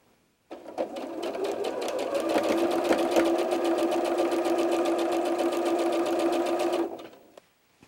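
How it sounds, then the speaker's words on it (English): A sewing machine runs steadily for about six seconds, stitching a quilt block with a 1/4 inch seam, its motor hum constant and close with a rapid needle clatter, starting and stopping cleanly. "I take that to the sewing machine, and again with a 1/4 inch seam"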